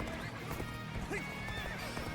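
In the Dynasty Warriors Origins battle game, a horse whinnies loudly over clip-clopping hooves, with battlefield clatter and game sounds beneath.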